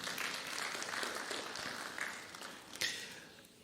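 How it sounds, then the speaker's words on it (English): Audience at a presidential debate gives a faint round of applause, scattered clapping heard at a distance that thins out and fades over a few seconds. "A big round of applause for Pamela Chanda."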